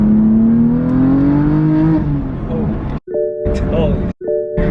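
A BMW F80 M3 tuned to Bootmod3 Stage 2 pulls hard in second gear, engine note rising loud and close from inside the cabin, then breaking into sharp chopped bursts as it shifts near the end.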